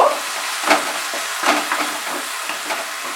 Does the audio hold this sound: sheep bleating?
no